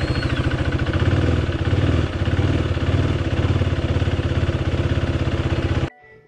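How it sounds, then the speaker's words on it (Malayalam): A KTM motorcycle engine in a home oil-change setting runs at a steady, close, loud idle with a rapid even thumping pulse, then cuts off abruptly near the end, leaving near silence. "ഇനി നമ്മൾ എൻജിൻ സ്റ്റാർട്ട് ചെയ്ത് നോക്കാൻ പോകണം, വണ്ടി സ്റ്റാർട്ട് ചെയ്ത് നോക്കാൻ പോകണം"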